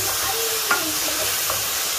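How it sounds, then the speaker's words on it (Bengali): Vegetables fry with cauliflower in a pan, a steady close sizzle and hiss throughout with a faint clink of stirring, no talking. "ফুলকপির সাথে এটা ভেজে ফেলি"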